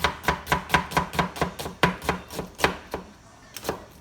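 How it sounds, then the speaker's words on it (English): A knife slices through a halved onion on a board in quick, even strokes, about a dozen crisp close cuts in a steady rhythm that slows toward the end. "You cut it half and slice it this way."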